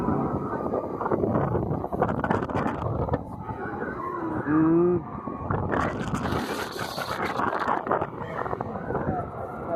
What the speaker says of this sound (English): Feel the wind now.